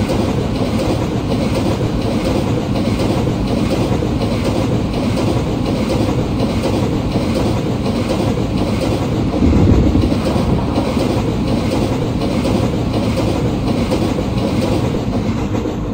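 An express train hauled by a WAP-7 locomotive overtaking a MEMU train in Train Simulator 22, heard as a loud, steady rumble of rolling wheels and carriages, with a brief heavier thump near the middle.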